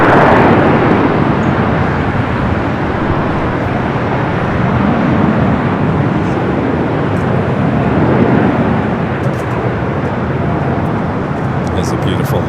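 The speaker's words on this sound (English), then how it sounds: "It's a beautiful livery on that A380, touching down, perfect" A large jet rumbles loud and steady as an Airbus A380 in a 25th-anniversary livery lands at LAX. The broad roar holds throughout with only slight swells and no break.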